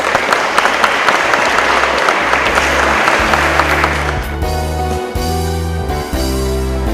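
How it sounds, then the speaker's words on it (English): A crowd at a school sports day claps steadily and fairly loudly for the transition-year students. After about four seconds the clapping thins out and music takes over. "Again, big round of applause for the TYs."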